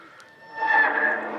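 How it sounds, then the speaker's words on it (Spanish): A rooster crows once as a sound effect in an outdoor living Way of the Cross reenactment in Araúzo de Miel, a drawn-out tonal call that swells after a brief quiet start. "al instante cantó el gallo"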